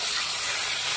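Potatoes and tomatoes fry in a pan, giving a steady, close, bright sizzling hiss that holds evenly throughout with no talk over it.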